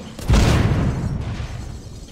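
A single loud, booming gunshot in the video game The Walking Zombie 2 rings out and decays into a long rumbling tail, heavy in the low end.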